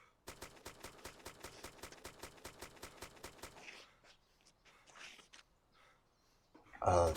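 Rapid burst of gunfire in the video game ArmA, about fifteen evenly spaced shots fired in quick succession, fairly near and crisp, then a short lull with faint scattered noise and a louder thump at the end.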